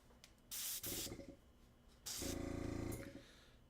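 An airbrush sprays miniature paint in two close hissing bursts, a short one split by a brief pause, then a longer steady blast with a sputtering undertone that tapers off.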